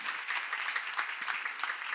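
Church congregation applause during a Korean seminar sermon on 1 Corinthians: a brief two-second burst of fairly quiet, dense clapping from many hands, with no one speaking.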